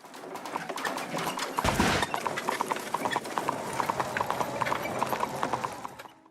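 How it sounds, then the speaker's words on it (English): A video game car's horse-themed engine sound: rapid clip-clop hoof clatter mixed with a busy rumbling, steady throughout with a brief louder whoosh near the start, moderately loud. "One of these cosmetics is the horsepower engine sound,"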